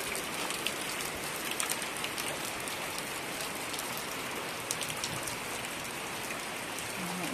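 Steady rain pours down outdoors in a continuous dense hiss, with scattered drops pattering on surfaces nearby and no voices.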